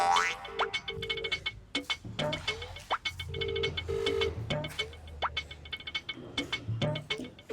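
A phone rings during an outgoing call, giving repeated paired ringing tones at a moderate level that are mixed with frequent bouncy, cartoonish boing effects.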